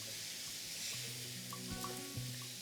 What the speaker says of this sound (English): Now we've got our meat browned.